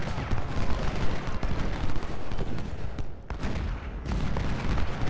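Siege artillery in the Civil War strategy game Ultimate General fires on an enemy unit at Antietam. Dense, loud volleys of booming shots crackle and overlap throughout, with a brief lull midway.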